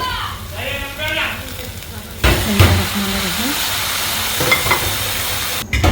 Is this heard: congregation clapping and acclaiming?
no